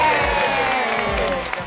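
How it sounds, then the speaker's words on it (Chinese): An audience claps and cheers briefly to thank a co-host on a Taiwanese dating variety show filmed at an amusement park resort, the applause blending with background music and a faint voice. "掌声谢谢我们妹姐"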